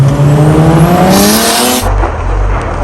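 A Nissan Patrol Y61 GU fitted with an OM606 diesel revs hard with a climbing engine note, then the pitch drops sharply at a gear change into a deep, loud rumble, close and without talking.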